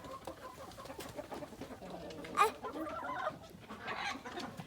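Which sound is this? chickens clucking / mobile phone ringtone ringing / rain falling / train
chickens clucking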